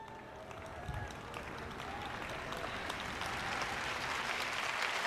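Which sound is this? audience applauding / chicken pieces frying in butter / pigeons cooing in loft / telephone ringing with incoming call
audience applauding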